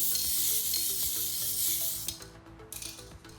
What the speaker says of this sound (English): you just lightly mist it over the panel.